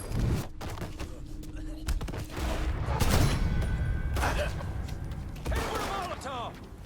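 Gunfire in the video game Mafia 3, with loud bursts of shots and thuds layered over dense action noise and voices shouting through the fight.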